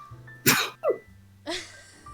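A single sharp sneeze from a person at a desk during a relaxed art stream, close to the microphone, followed by a brief throaty breath and a second smaller burst, over quiet room hum.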